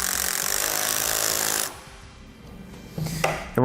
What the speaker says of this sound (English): I would suggest using a screw gun here to get that to go in